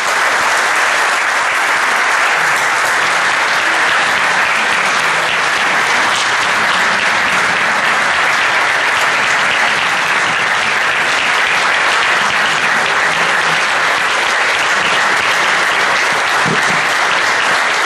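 A large audience at a formal ceremony claps loudly and continuously for a long stretch, a dense, even roar of hands with no pause.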